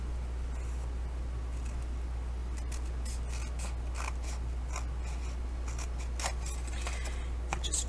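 Scissors snip through the end of a ring-bound journal's paper in a run of crisp, close cuts that quicken toward the finish, set against a steady low hum.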